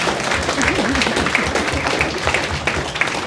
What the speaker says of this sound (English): can we all get a round of applause for these amazing dancers?